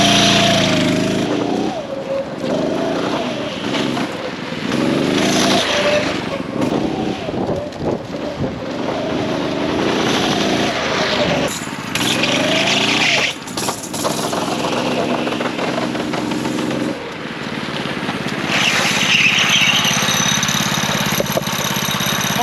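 A Manco go-kart engine buzzes and revs continuously while the kart is driven around turns, loud and close with wind buffeting the microphone throughout.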